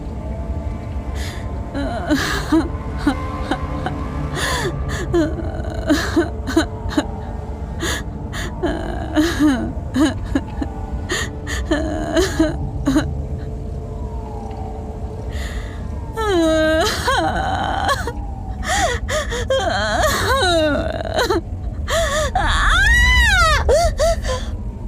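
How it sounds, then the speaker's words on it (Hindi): Sobbing and gasping in a horror story, a person's wet, broken breaths and whimpering cries that rise and grow more intense toward the end, heard close and fairly loud against a dark, eerie background. "सिसकने की आवाज बढ़ने लगी।"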